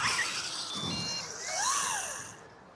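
Losi Promoto-MX RC motorcycle running on wet grass, its small electric motor giving a thin high whine that rises and falls in pitch as it speeds up and slows, fairly close, with no voices.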